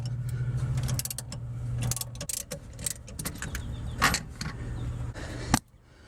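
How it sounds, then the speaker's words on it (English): A ratchet works loose the harmonic balancer on a 1977 Dodge van's 318 engine, giving rapid irregular metallic clicks and clatter over a low steady hum that cuts off near the end. "Take my ratchet, and you should start to see that just come right off of there."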